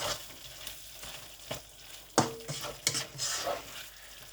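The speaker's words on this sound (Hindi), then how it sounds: "बाकी का धनिया जो है वो भी मैं इसमें ऐड कर दूंगा। और एक बार इनको मिक्स कर दूंगा।" Chicken malai with coriander is stirred in a pan over low heat, with quiet sizzling and several distinct scraping and clinking strokes of a spoon against the pan, close and without talk.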